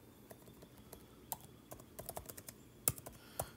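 Keys clatter on a computer keyboard while someone types a message, quick irregular taps that bunch into short bursts, close and fairly quiet with no voices.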